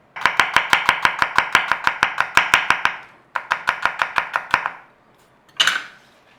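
A knife slices onion on a cutting board in fast, even chops, a long run of crisp close knocks, a short pause, another run, then one final cut, with no talking.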